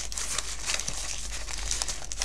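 Paper crinkles and rustles steadily and close up as it is rolled around a homemade Christmas cracker, a continuous crackling texture without pause and with no talking.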